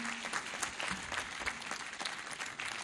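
A graduation audience at TEAU University claps steadily in a dense, continuous round of applause, fairly close and sustained throughout, with a faint low tone underneath.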